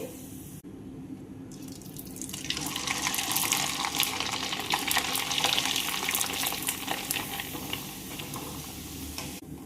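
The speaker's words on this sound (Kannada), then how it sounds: "ನೋಡ್ರಿ ಹಪ್ಪಳನ ಹುರ್ಕೊಂಡೇನು ನಾನು" Chana dal papad fry in hot oil, blooming as they cook, with a steady, close, bright sizzling hiss that swells after a quieter start and stays loud throughout, with no talking.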